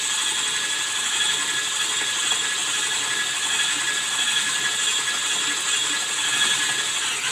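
Electric hand mixer running steadily on a low setting, blending chocolate into cream cheese for a brownie cheesecake; a continuous bright whirring drone with no speech.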